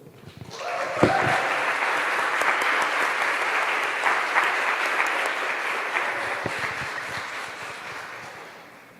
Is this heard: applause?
yes